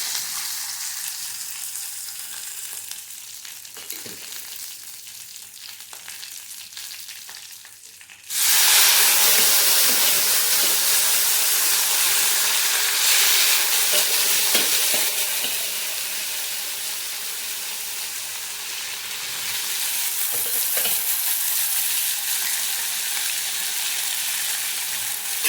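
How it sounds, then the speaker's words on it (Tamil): Mustard seeds and curry leaves hit hot oil for a snake gourd kootu, bursting into a loud, close, hissing sizzle that starts abruptly and crackles on steadily before easing slightly. "இதோ கடுகு, கருவேப்பிலை போட்டுக்கலாம்."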